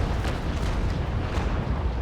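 Cannons aboard the sailing warship Essex in the naval combat game Naval Action fire a rolling broadside, a dense, continuous low rumble of booms that fills the whole moment.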